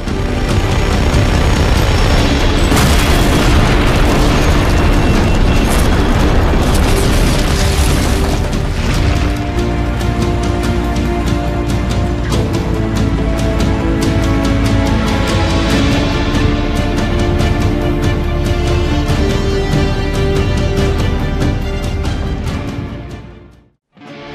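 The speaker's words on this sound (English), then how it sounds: "Shooting out the supports will result in the bridge destroying in different ways every time." Repeated explosions tearing apart a huge bridge in Just Cause 3, a loud, sustained roar of booms and crashing debris lasting over twenty seconds before cutting off abruptly.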